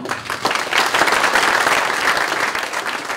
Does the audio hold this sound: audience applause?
yes